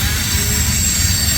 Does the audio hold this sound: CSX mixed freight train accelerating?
yes